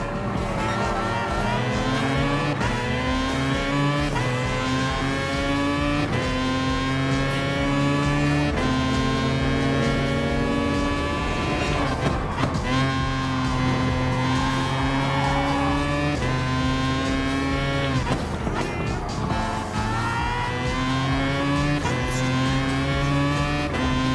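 Group 1 race cars, including a Porsche 919 Hybrid, Sauber Mercedes, Audi R18 and Mazda 787B, in Gran Turismo Sport: continuous loud engine roar rising and falling through gear shifts, with layered cars close by and no pauses.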